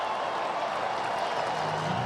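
Crowd at Kauffman Stadium in Kansas City applauding a base hit to right field during a Yankees–Royals baseball game, a steady, moderately distant wash of clapping and cheering that holds evenly for about two seconds.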